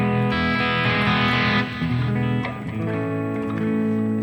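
Electric guitar played through a Harley Benton DNAfx Git Pro amp modeler, a steady overdriven tone with sustained chords ringing continuously, close and fairly loud with no talking.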